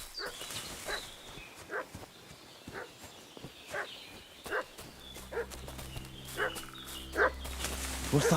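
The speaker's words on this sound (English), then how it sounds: "What's that dog making such a fuss about?" In the medieval video game Kingdom Come Deliverance 2, a dog barks repeatedly at a distance, sharp, evenly spaced woofs over quiet outdoor ambience, later joined by a low sustained musical drone.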